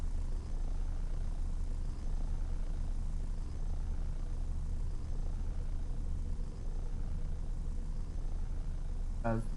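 A helicopter in the video game Earth 2150 drones steadily with a low rotor and engine hum, continuous and fairly close throughout.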